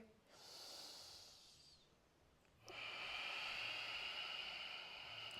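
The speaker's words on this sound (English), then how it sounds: "Let's take a deep breath here." A deep breath is taken while holding downward-facing dog in a vinyasa yoga session: a soft inhale followed by a longer, louder, airy exhale, close and steady against a quiet background hiss.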